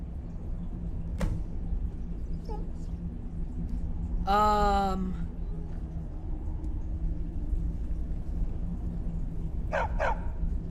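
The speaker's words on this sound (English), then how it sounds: "this dog has been barking for ages. Even though he can talk, he still barks." A dog barking in the Skyrim video game, a short burst of several quick barks in the middle with a fainter bark near the end, over a steady low game ambience hum.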